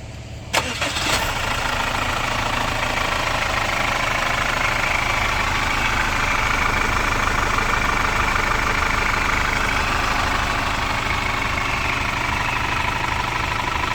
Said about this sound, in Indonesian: Oke coba starter ulang bos.